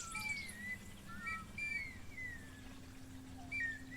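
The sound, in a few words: clay whistles, ocarinas and reed flute sounding like birds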